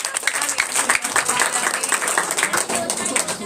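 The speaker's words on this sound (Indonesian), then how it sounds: "Kita berikan tepuk tangan buat" A church congregation at a social-service worship gathering claps for the musicians and worship leader, a lively patter of hands with some distinct near claps and a voice speaking faintly underneath.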